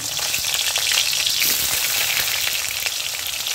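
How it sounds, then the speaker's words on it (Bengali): Potatoes, already coated with salt and turmeric, frying in a pan of oil for a village-style pointed gourd and paneer dish: a steady, close, dense sizzle that holds level and unbroken throughout, with no voices. "এই তেলের মধ্যে আমি আলুগুলো একটু ভেজে নিচ্ছি।"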